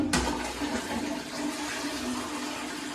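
A toilet flushes close by with a sharp start and a rushing, gurgling water surge that keeps going steadily, with no talk over it.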